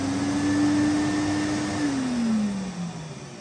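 A brand-new 2006 Henry twin-motor vacuum cleaner is switched on at low power: a close motor drone whose whine holds steady, then slides downward in pitch, with no talk.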